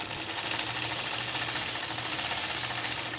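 A sewing machine quilts along the edge of a ruler, giving a steady, close mechanical whir with a faint rhythmic ticking that runs without pause under a soft hiss.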